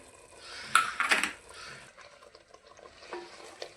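Masala gravy with ground sesame and grated coconut being stirred in a pan, with a burst of spoon scraping and clinking against the metal, then quieter soft stirring and a faint sizzle.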